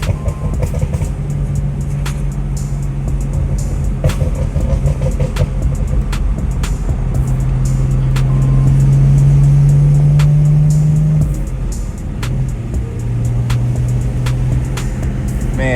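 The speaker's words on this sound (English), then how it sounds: "the car's so loud" A loud BMW 335i engine drones steadily from inside the moving car, its pitch rising and falling as it revs, with occasional clicks and rattles.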